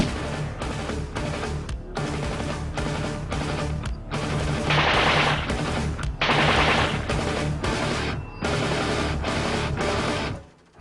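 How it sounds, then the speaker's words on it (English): A machine gun fires a belt of bullets in continuous rapid bursts at a defence academy range. The roar is loud and close and barely pauses over about ten seconds. "Just load the magazines and fire a belt of bullets from the machine gun."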